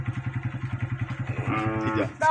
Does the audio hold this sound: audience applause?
no